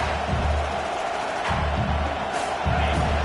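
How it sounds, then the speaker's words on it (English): A loud video game stadium crowd in Madden roars continuously, swelling in waves of cheering and shouting, dense and close, with no clear individual voices. "It's early, but this crowd is fired up. Listen to this noise here."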